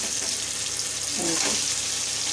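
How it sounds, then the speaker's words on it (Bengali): Steady sizzling of potatoes frying with cumin seeds in hot oil, with a brief scraping stir partway through; no voices. "আর এখানে তেলে সাদা জিরে দিয়ে আলুটা ভাজা হচ্ছে।"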